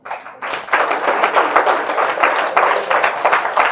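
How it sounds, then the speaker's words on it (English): Lively audience clapping and applause in a tax lecture hall, dense irregular hand claps rising quickly and sustained at close range, loud and continuous with no talk over it. "Clap for him."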